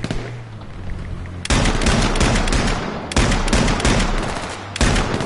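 Rapid automatic gunfire in the H1Z1 battle royale game, loud dense bursts in three sustained strings separated by brief gaps, close and harsh with no talk over it.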